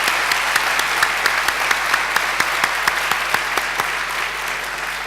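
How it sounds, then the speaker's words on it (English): Dense, sustained applause from an audience after a performance at a graduation ceremony, a steady wash of many hands with sharp individual claps standing out, loud and even throughout. "superb performance deserves another round of applause"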